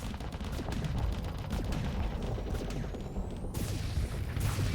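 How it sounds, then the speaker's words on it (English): Torpedoes launched in the space combat game Starsector, a dense, continuous barrage of booming blasts and crackling fire, loud and close throughout, with a sharp rise in intensity toward the end. "I'm going to target it and drop some torpedoes at it"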